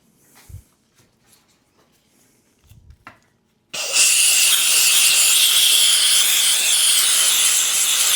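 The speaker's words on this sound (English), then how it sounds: "I'm gonna try this steam cleaner out on here and see if I can't clean this thing up." After a few quiet taps and bumps, a loud steam cleaner bursts on and hisses in a continuous, harsh, close-up spray onto a vintage aluminum motorcycle engine to the end.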